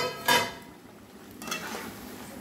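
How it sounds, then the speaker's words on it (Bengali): Potato and pointed gourd pieces tipped into boiling gravy for alu potol korma, a sharp clatter of a utensil against the pan followed by a softer second knock over a quiet simmer. "ঝোল ফুটে গেছে। এবার আলু পটলগুলো আমি দিয়ে দিলাম।"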